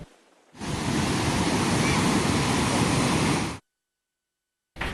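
Rough sea surf crashing in a steady, loud roar for about three seconds, with wind noise over the microphone, before cutting abruptly to silence.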